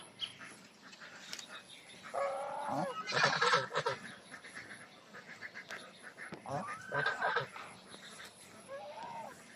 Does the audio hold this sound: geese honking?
yes